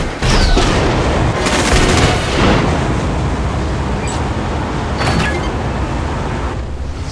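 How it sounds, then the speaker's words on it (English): Gemini cannons fire in the mobile action game Agent Intercept, a dense, continuous barrage of booming blasts and rumbling explosions, loud and sustained, with sharper bursts at intervals and no speech. "I've deployed Gemini cannons."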